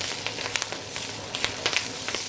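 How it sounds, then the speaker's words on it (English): Chinese broccoli stems sizzle in a stir fry over the highest heat, a continuous crackling hiss with sharp pops scattered through it, close and fairly loud. "the stems will go in. I'm gonna bring my fire all the way to the highest point. Let that stir fry."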